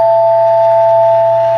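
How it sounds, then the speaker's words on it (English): A NuTone L37 chord-note door chime rings as the button is pressed, two tone bars sounding together in a loud, sustained, pure resonant tone that holds steady throughout. "when you push the button, the first thing you hear are the 2 tone bars on the right"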